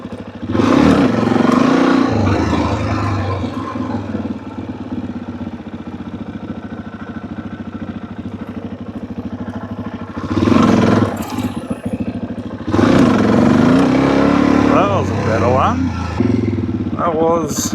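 Motorcycle engine revving in bursts while a rider learns to wheelie, throttle rising and falling close by, with a voice talking over much of it.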